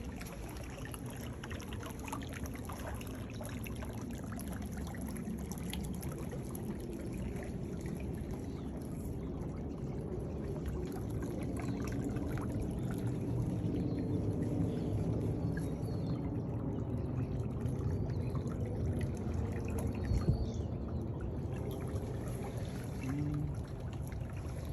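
Steady rushing and pouring of water from a broken waterline flooding a front yard, a continuous broadband gush that holds at a constant moderate level throughout with no talk.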